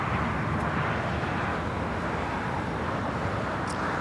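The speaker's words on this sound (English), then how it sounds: "We have the San Francisco Giants delivery taxiing over to the south side." A jet airliner taxis at LAX airport, heard as a steady, loud broadband roar of engines and wind-like rush that holds evenly throughout with no pauses.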